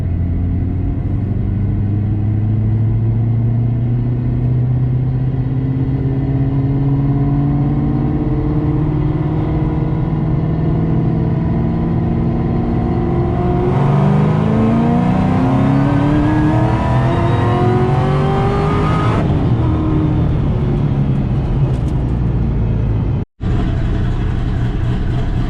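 A cammed Ford Shelby GT500 engine pulls hard during a run, its deep rumble climbing steadily through the revs with a brief shift, then rising again before abruptly cutting off near the end; loud, close and continuous.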